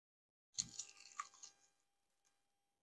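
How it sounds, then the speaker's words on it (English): One crisp crunching bite into a fried chicken wing, a sharp close crack followed by a second of crackling chews that fade out, quiet and alone, with no talking. "Oh, you can hear that, the crunch."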